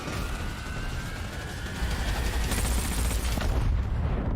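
Dense rumbling explosions and crackling gunfire-like bursts in an open-world PS5/PS4 video game pile up continuously, loud and chaotic, with a sharp burst of noise midway.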